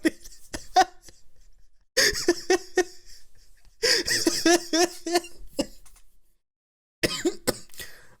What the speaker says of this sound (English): I'm coughing like I'm old.